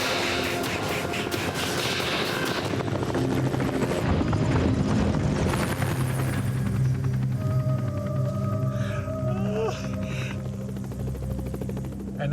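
A helicopter's rotor whop-whop chopping steadily at a remote Canadian cliff site, loud at first and then gradually fading as it moves away.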